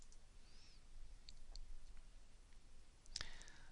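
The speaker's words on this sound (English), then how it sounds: "so we'll click Save" A single quiet mouse click on a Save button, one crisp tick heard over a faint steady background hiss.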